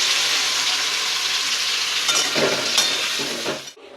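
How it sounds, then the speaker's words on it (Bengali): Whole cinnamon, cardamom, cloves and mace fry in hot oil with a loud, steady crackling sizzle that ends abruptly as the spices settle and the noise cuts down. "আমি নিয়ে নিয়েছি দারচিনি এলাচ লবঙ্গ আর একটু জৈত্রী তেলের মধ্যে দিয়ে দিলাম"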